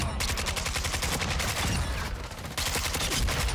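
An AK74u fires fast, close, crackling automatic bursts in Call of Duty Modern Warfare 2 multiplayer, with a brief pause midway before the rapid shots resume.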